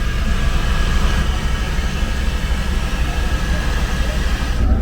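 A steam train gives off a loud, constant rumble up close. The heavy noise holds steady throughout, with no voices.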